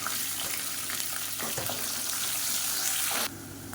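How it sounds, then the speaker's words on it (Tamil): Sliced large onions fry in hot oil in a pan for a kurma, a steady close sizzle with faint stirring scrapes, ending in an abrupt quieter patch near the end. "இப்போ ஒரு கைப்பிடி அளவுக்கு பெரிய வெங்காயம் நீளமாக நறுக்கினதை சேர்த்துக்கலாம்"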